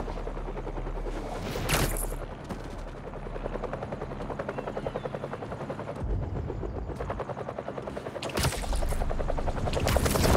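Helicopter rotor blades in Marvel's Spider-Man video game, a steady low pulsing chop running throughout amid loud action bursts and impacts, with no talk.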